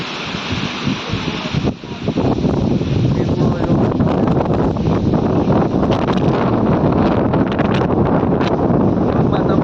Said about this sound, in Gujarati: એટલો બધો પવન છે